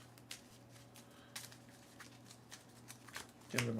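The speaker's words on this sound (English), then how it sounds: "Give them a good shuffle." Soft, irregular papery flicks and riffles of a deck of game cards being shuffled nearby, quiet, with a brief louder clatter at the end.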